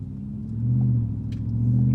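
A Lexus GX470 SUV engine running, a low, steady rumble idling close by with a slight swell partway through, faint and smooth, with nothing else over it.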